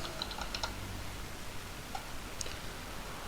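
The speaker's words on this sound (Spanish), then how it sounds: "Voy a poner el nombre acá. Por ejemplo, pongamos Pepito Pérez" A name is typed on a computer keyboard: a steady run of light, close keystroke clicks over a quiet background hiss, with no talk.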